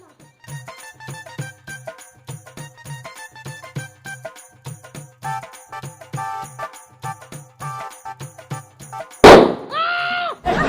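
A Diwali firecracker bursts with one loud, sharp bang near the end, followed by a warbling whistle, after a long stretch of rhythmic background music.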